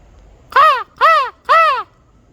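A person imitates crow calls outdoors, giving three loud, harsh caws in an even rhythm, each about a quarter second long with short pauses between, close to the listener and heard alone.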